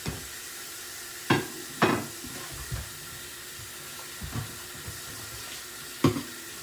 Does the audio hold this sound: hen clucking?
no